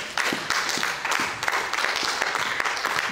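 A church congregation applauds in worship, steady clapping from many hands filling the room at a lively, continuous rhythm.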